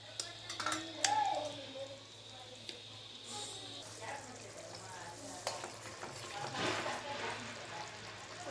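Sour okra gojju gravy simmers in a pan, with soft bubbling and sizzle, occasional stirring and utensil clinks, and a faint voice in the background.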